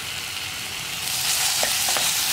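Okra and tomato sautéing with salt in a pan, a loud continuous sizzle that swells partway through, with a few spoon taps near the end.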